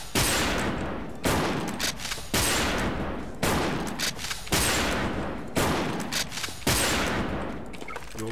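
Sustained bursts of video-game gunfire, several loud volleys in a row with brief gaps between them, close and dense, with no talk over it.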